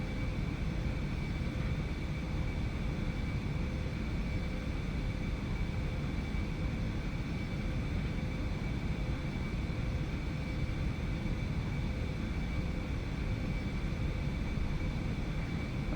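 A steady, loud jet engine roar with a constant whine drones throughout the takeoff of an Aerobask Eclipse 550 in a flight simulator, unchanging for the whole stretch.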